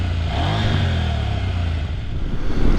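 A CF Moto 800 MT motorcycle engine rumbles steadily up close, a low idling throb with a slight rise in revs toward the end, with no one talking.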